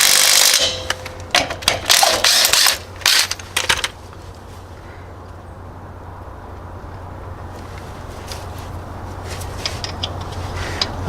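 Wheel bolts coated with blue thread lock being run back in with a ratchet, a burst of loud ratcheting clicks for the first few seconds, then a quiet low background hum.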